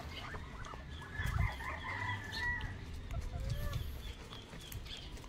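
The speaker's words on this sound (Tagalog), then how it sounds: "Ito yung ibang manok natin oh." Chickens clucking and calling close by, with a rooster-like call, over a low background rumble.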